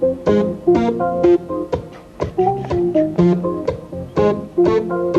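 A keyboard plays a lively part of chords and melody notes in an uneven rhythm, close and fairly loud, with one note sounding off.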